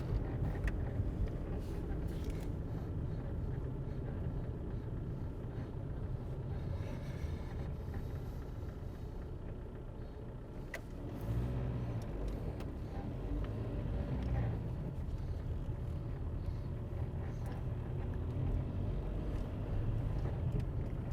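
Diesel car being driven around Las Vegas in December, its engine and road noise forming a steady low rumble throughout, with some wind buffeting on the microphone and no talk.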